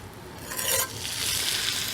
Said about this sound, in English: You hear that little sizzle.